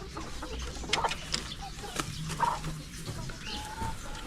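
Young native kanipi chickens, four months old, in a backyard coop cluck and call in scattered bursts, with a rooster among them and faint ambient noise around.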